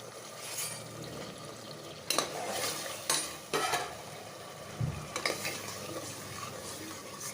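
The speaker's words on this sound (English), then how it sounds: "Stirring it very well." A spoon scrapes and clinks against a pan while onions and tomatoes with rock salt sizzle softly, with several sharper knocks at irregular intervals, close and fairly quiet.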